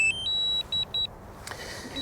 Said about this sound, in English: we get that incessant beeping that all DJI drone lovers love